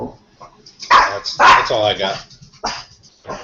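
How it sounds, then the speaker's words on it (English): A dog barks and yips a few times up close, loud short bursts mixed with a person talking over a home call. "good timing as the dog runs in the room"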